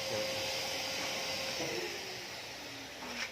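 The dust vacuum on a glass sandblasting cabinet roars loudly and steadily, then its pitch sinks as the motor is switched off and begins winding down.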